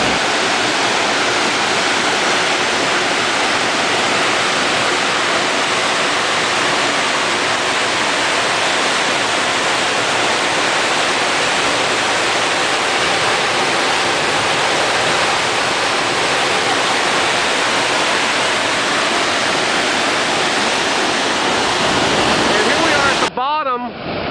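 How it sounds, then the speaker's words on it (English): Lower Basswood Falls in the Boundary Waters in spring pours out a loud, unbroken roar of rushing water heard up close, holding steady until it cuts off abruptly at the end. "Lots and lots of water running."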